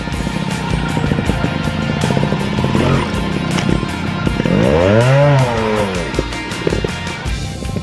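A trial motorcycle engine revs continuously through a sideways turning manoeuvre on a curve, rising and falling in pitch with bursts of throttle, loud and close throughout.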